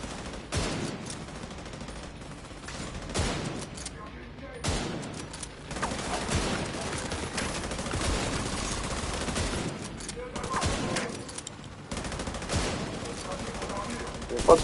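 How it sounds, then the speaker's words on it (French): Gunfire in The Division 2 shooter game, with bursts of rapid shots and scattered single cracks at moderate loudness under someone talking in French. "il y en a un qui tire dessus là-bas."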